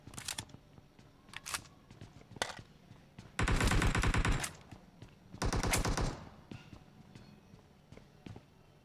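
Uzi submachine gun bursts in a battle royale shooter game, two sustained rapid-fire volleys under a second long each, loud and close, between scattered single clicks and footstep-like taps.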